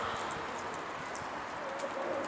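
Soft pigeon coos repeat over a steady, noisy outdoor background, fairly faint and distant.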